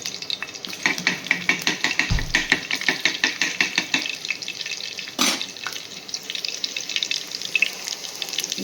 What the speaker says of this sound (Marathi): तर पहिले मी लसूण घातलेला आहे फोडणीला